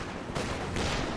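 Sustained MG42 machine gun fire in a strategy war game, a dense, loud burst of rapid rounds that swells partway through, with no voices.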